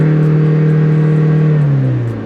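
Tata Nexon 1.5-litre diesel engine running with the windows down, a loud steady low hum that drops slightly in pitch near the end, with no talking.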